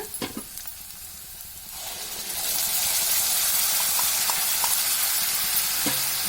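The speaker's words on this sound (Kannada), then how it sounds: "ಈಗ ಟೊಮೊಟೊ ಪೇಸ್ಟ್ ಸೇರಿಸ್ಕೊಳ್ಳೋಣ" Tomato paste hits a hot pan for tomato bath, and a few clinks and stirs are followed by a loud, steady sizzle that hisses without a break.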